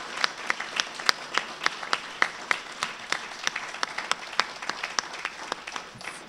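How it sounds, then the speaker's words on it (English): A smallish audience at a Vietnam War remembrance talk in Minnesota gives a round of applause. Distinct individual claps sound through a lighter, steady patter at an even pace, fairly close, with no talking. "let's give them a round of applause"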